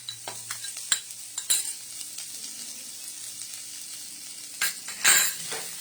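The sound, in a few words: carrot being stir-fried in a pan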